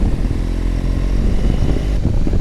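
A motorcycle engine drones steadily and close by while riding along the mountain roads around Murree, Nathia Gali, with a low rumble and some mechanical clatter.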